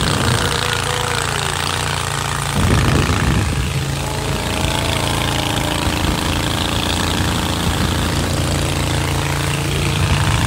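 A long-tail speedboat engine runs steadily and loudly on a boat ride near Siem Reap, Cambodia, a constant droning putter with a brief surge in intensity partway through and no talk over it.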